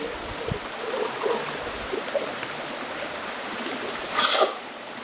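A river swollen by rain rushes along in a fishing spot, a steady, dense broadband wash of flowing water that holds constant throughout, with a brief surge of splashing near the end.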